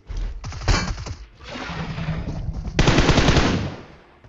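Rapid automatic gunfire bursts in the mobile shooter PUBG Mobile on the Erangel map, several loud rattling volleys in quick succession, close and dominant with no talk over them.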